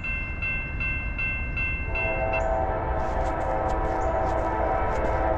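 Norfolk Southern freight train passing, with steady rail rumble and repeated short horn blasts at first, then louder wheel and car noise with squeals as the train rolls by up close.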